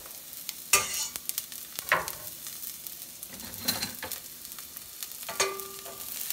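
Chopped garlic sizzles in very hot oil while being stirred, a soft continuous hiss broken by several sharp scraping strokes of the spoon at irregular intervals.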